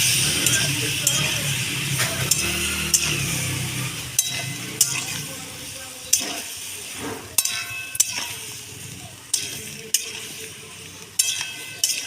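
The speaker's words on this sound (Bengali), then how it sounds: "মশলাটা ভাজা হয়ে গেছে বলে বেশিক্ষণ আর ভাজবে না।" Spice masala fries in a pan with a continuous sizzle and hiss while a spoon stirs and scrapes in repeated knocks and clinks, close and fairly loud.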